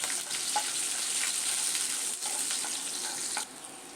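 Halved chillies and garlic sizzle steadily in hot oil in a pan while being stirred, a close, continuous crackling hiss with faint scraping throughout, with no voices.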